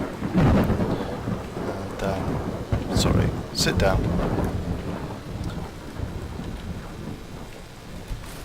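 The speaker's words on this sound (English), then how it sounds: "wait a few hours for the storm to settle" Thunder rumbles and rain pours steadily during a storm in the Skyrim video game, with loud cracks of thunder breaking through the constant hiss of rainfall while someone speaks briefly over it.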